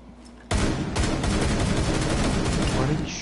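Rapid automatic gunfire in the video game Rainbow Six Siege bursts in suddenly and keeps going as a loud, dense, continuous stream of shots.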